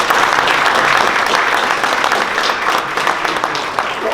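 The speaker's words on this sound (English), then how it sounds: "give you another round of applause" A township council meeting audience applauds a singer, a full, loud and dense wash of clapping that holds steady for about four seconds, many hands blending into a continuous roar.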